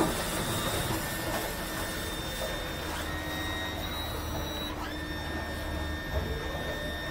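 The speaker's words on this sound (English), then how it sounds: "Then I'm gonna trim this one back down again, trim that one down." Electric power trim on a Yamaha F250 outboard motor lowers the engine on a 2023 Stabicraft 2750 boat, giving a steady whining hydraulic hum with pitch shifts, heard over constant background noise.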